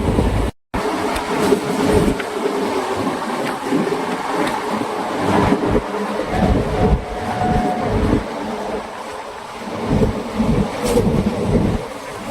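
A train runs steadily between stations on a rail line, a loud continuous rumble of wheels and carriage with rhythmic clatter, heard from inside the coach.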